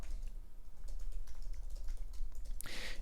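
Rapid typing on a computer keyboard, a steady close patter of key clicks over a soft background hum, with a sharper clack near the end.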